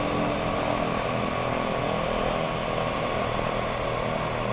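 An EMB 110 twin-propeller airplane in the X-Plane 11 flight simulator roars steadily at high power on takeoff, a loud, dense, continuous engine and prop drone with no talk.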